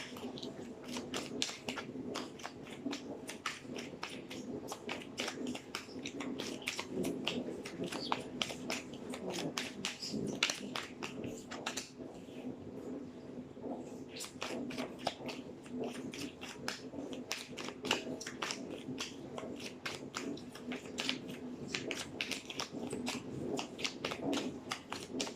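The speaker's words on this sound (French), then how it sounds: "Le temps que je batte les cartes et je vous explique." Playing cards are shuffled close up, a long steady stream of soft flicks and snaps lasting over twenty seconds with a constant low background hum and no talking.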